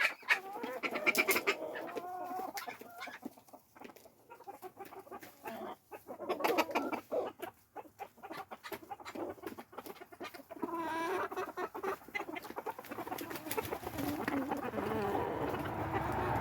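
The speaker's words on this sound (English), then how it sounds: "Duckies are being ducky." Ducks and other poultry inside a coop, with a busy mix of clucks, quacks and squawks overlapping at close range throughout, in some bursts louder and denser than others.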